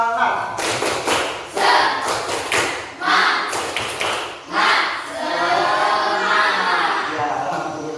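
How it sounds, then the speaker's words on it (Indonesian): A classroom group performs the 'tepuk semangat' clap chant, bursts of rhythmic hand claps in quick patterned runs mixed with voices calling out in unison, loud and close. "kita ice breaking dulu dengan menggunakan tepuk semangat"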